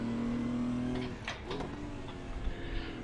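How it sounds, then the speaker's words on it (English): A race car in the RaceRoom racing game drones steadily, then the engine note drops and sweeps back up through a missed gear change around the middle, close and loud, with no talk. "And you will hear me misshift in a second."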